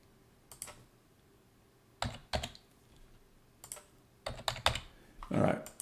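Keys clack on a computer keyboard in several short bursts of typing separated by pauses, with a hand entering values into reserves spreadsheet software in a quiet room.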